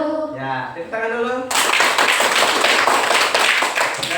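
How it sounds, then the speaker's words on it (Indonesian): A classroom of students claps hands together in a loud, fast burst of many overlapping claps, starting abruptly after a short stretch of speaking voices and continuing steadily to the end. "Ya, tepuk tangan dulu."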